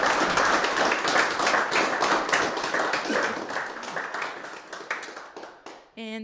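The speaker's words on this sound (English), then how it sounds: "Big round of applause" Audience applause after a speaker-series talk on a year aboard the schooner Bluenose II, a hall of clapping that starts strong and gradually thins and fades, ending with a brief voice.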